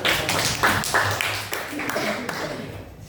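Junior high school students clap their hands in a classroom, a dense run of quick, sharp claps close by, overlapping with talk in the room.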